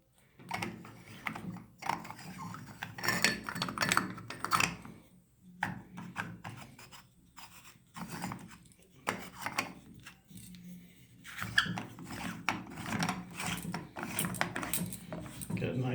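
Metal shower faucet parts on a Glacier Bay valve are tightened by hand, giving steady rasping, scraping and clinking metal rubs with brief pauses, close up and moderately loud.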